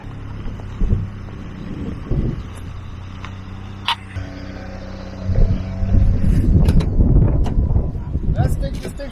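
A Ford Ranger truck pulls off and starts driving, its engine and rolling noise building steadily through the second half, with wind buffeting and a few knocks and rattles earlier on.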